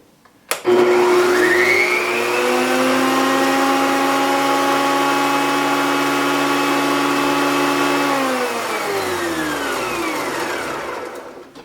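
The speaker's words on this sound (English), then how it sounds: "Let's see if it'll run the planer." Electric hand planer powered from a compact DABBSSON 600L portable power station: a loud steady motor whine spins up sharply, holds for about eight seconds, then winds down with falling pitch, no talk.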